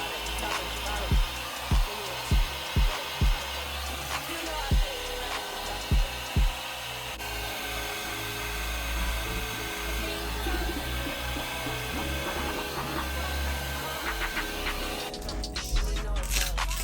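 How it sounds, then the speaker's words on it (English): A blow dryer fitted with a diffuser hums and whooshes continuously at close range while styling a wig, with several sharp knocks and clicks near the start. "I'm gonna put my diffuser onto my blow dryer."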